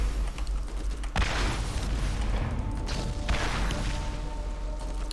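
Rocket launcher explosions in Borderlands, with two sharp booming blasts about two seconds apart over a steady rumbling background and faint mechanical clatter.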